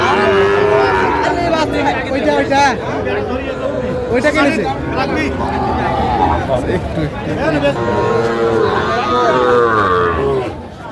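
Sahiwal bull calves moo loudly and repeatedly at a busy cattle market in Gazipur, their calls overlapping with steady crowd chatter and nearby voices throughout.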